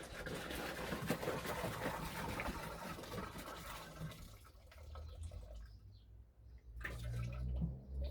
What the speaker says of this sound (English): In a slimline water butt, which I then just pour my liquid in.